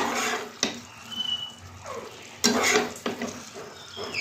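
Duck meat sautéed in oil in a pan, stirred with a utensil: soft sizzling under several sharp scraping and clattering strokes against the pan, close and fairly quiet, with no talking.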